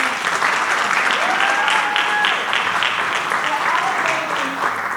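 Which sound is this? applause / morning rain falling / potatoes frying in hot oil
applause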